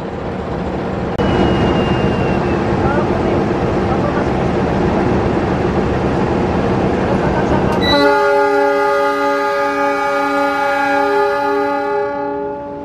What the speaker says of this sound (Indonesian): Akhirnya kereta api Taksaka berangkat.